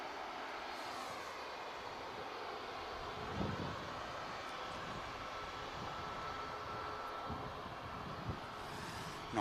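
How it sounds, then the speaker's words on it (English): An Egypt Air Airbus A321neo taxis out at Manchester Airport, its engines giving a steady, distant whine and hum that stays even and moderately faint, with no one talking. "the Egypt Air is on the taxi out, the 321 Neo for Cairo"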